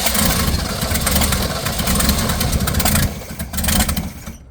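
A 1965 Ford Mustang engine under restoration cranks and catches, a loud, steady rumbling run close by that dips briefly near the end and then fades away.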